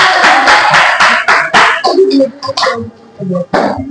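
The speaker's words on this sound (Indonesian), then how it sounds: "Tepuk tangan dulu teman-teman." Students clapping in a classroom, a quick run of rhythmic, evenly spaced claps close by, followed by children's voices talking.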